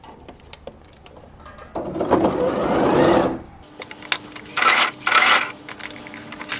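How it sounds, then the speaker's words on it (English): Sewing machine stitching a beginner-friendly shawl collar, with a steady whirring run of about two seconds and a second shorter burst, plus quiet fabric handling and clicks between runs. "then you continue stitching."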